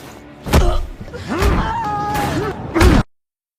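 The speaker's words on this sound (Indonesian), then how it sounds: "Jaro pun memukuli Leo dan membenturkan tangan Leo ke pintu mobil berkali-kali" In an action film scene a man's hand is slammed against a car door over and over, giving several heavy thumps mixed with gasps and groans that ring out loud and close.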